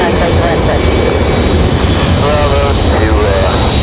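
An Airbus A320 jet airliner at Raleigh-Durham airport roars loudly and continuously, its engine noise filling the whole stretch without a break.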